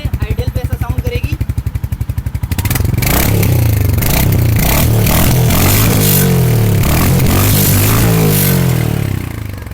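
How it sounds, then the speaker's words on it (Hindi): A Royal Enfield Hunter 350 motorcycle starts up with a quick rhythmic cranking before its exhaust settles into a loud, close, thumping idle with throttle blips, lasting several seconds. "कैसा इसका एग्जॉस्ट नोट का साउंड रहने वाला है। तो बाइक कर लेते हैं स्टार्ट।"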